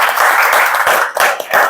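Brief, close burst of clapping from an audience at a student presentation session, with a few distinct slaps over a continuous rattle of claps.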